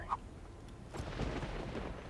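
Lightning thunder in the city-building game Captain of Industry comes as a faint, low distant rumble that swells after a short quiet moment and keeps rolling softly to the end, with no talking.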